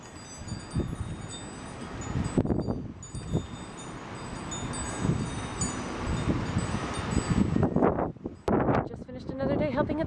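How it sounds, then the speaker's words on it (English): Strong wind rushes and buffets the microphone throughout, loud and continuous, while people talk intermittently over it. "It's crazy windy."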